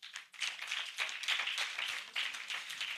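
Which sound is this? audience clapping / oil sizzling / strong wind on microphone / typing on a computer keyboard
audience clapping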